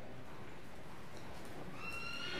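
A horse under saddle at a dressage riding clinic gives a clear whinny near the end, over steady hoof sounds and arena noise, fairly close.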